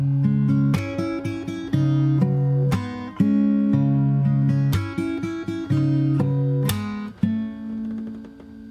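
Fingerstyle acoustic guitar plays the opening bars of a song, a clean, close, unaccompanied riff of plucked bass notes and chords with brief pauses between phrases.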